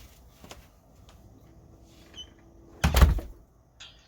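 A door is pushed shut and closes with a single firm thump after some soft shuffling and handling noises, heard through a Blink security camera.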